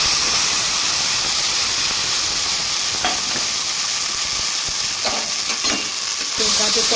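Grated carrot frying in ghee in a pan, giving a steady, close, continuous sizzle with faint stirring clicks throughout and no talking.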